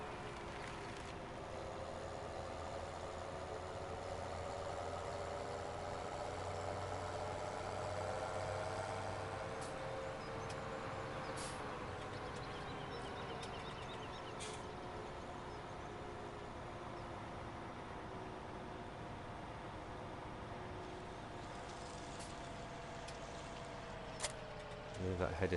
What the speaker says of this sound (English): It's quite a nippy little tractor, is this?